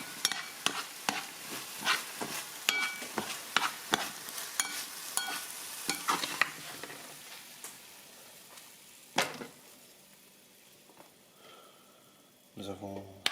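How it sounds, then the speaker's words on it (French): Bacon lardons fry in a home kitchen pan while being stirred, giving sharp scraping clicks and knocks over a faint sizzle, with brief voices in the background. "je vais cramer les lardons"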